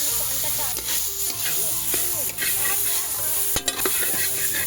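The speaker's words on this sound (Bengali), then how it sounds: "ডালটা তো নেড়ে নেড়ে শুকনো হয়েছে" Lentils for dal stir-fried dry in a pan in a home kitchen: a spatula scrapes and stirs repeatedly with a steady sizzle underneath, close and clear, with no talk.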